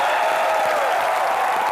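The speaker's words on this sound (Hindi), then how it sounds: "जोरदार तालियां रानी के लिए" A studio audience at a comedy talk show claps in a brief, steady burst of applause heard alone.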